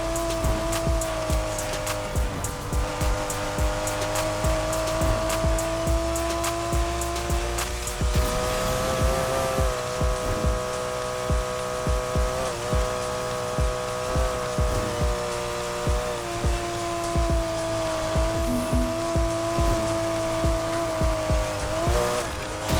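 Nissan Fairlady 240Z race build roaring through a Need for Speed race, with a steady, loud engine drone, shifting pitch and tire squeal sustained throughout, no talking.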